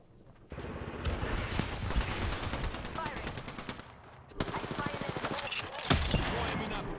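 Rapid bursts of video game gunfire rattle in a sci-fi shooter as enemies fire on the player, dense automatic shots continuing for several seconds with a brief lull midway, loud and close.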